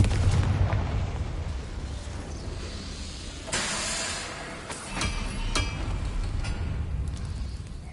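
A Confringo fire spell explodes in the game Hogwarts Legacy, a booming blast with a hissing burst layered over a steady rumbling game soundscape, followed by a further crackling pop.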